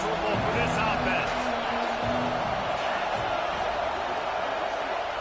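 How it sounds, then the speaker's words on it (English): Stadium crowd roaring in a college football video game, Clemson versus LSU, a dense, steady wall of crowd noise throughout with a play-by-play commentator talking over it. "This crowd trying to make life miserable for this offense."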